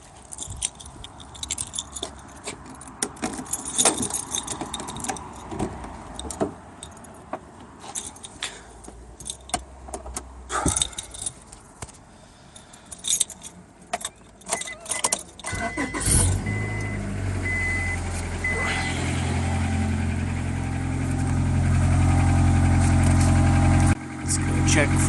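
A Honda Accord engine with a newly replaced muffler cranks and starts, then settles into a steady idle that grows fuller and louder, preceded by keys jangling and handling noises close by.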